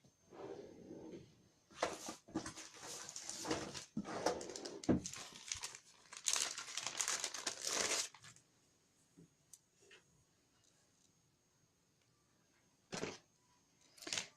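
Close, crinkly rustling and peeling of plastic double-sided tape in several bursts, growing quieter with a few brief crackles near the end.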